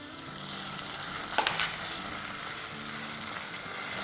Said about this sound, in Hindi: इसमें अब हम डालेंगे 1 टेबलस्पून हीपिंग जिंजर का पेस्ट और 2 टीस्पून लहसुन का पेस्ट